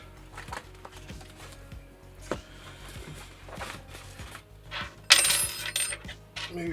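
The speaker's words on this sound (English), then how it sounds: "move my Allen keys off of it." Metal Allen keys are moved off an Alfawise U20 3D printer, giving scattered light clinks and taps and then a brighter jangling clatter of metal near the end.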